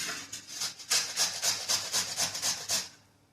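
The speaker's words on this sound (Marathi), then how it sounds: "आता ही कैरी मी किसून घेणार आहे." Raw green mango, skin left on, rubbed against a household coconut grater in a kitchen, giving about a dozen rhythmic rasping strokes, close and fairly loud, with no talking.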